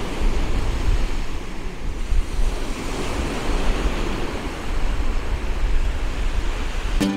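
Surf breaks steadily on a cold, windy beach at Eyemouth, a broad continuous roar of waves with wind buffeting the microphone throughout, loud and close, with no voices.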